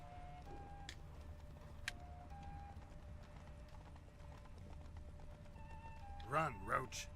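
The horse Roach galloping in The Witcher 3, hooves clip-clopping in a quick rhythm under faint in-game tones, with a couple of louder snorting or whinnying bursts near the end.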